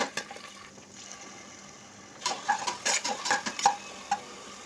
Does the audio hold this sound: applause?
no